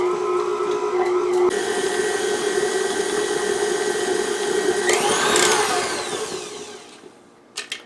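An electric mixer creams butter and sugar for cherry chocolate chip oatmeal cookie dough with a steady, close motor whine, then it slows and winds down near the end, followed by a couple of small clacks.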